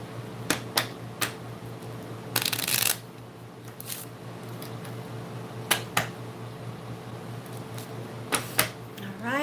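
A deck of cards handled and pulled one at a time during a card reading gives sharp, scattered snaps and flicks, with one longer riffling burst, close and clear over a quiet room hum.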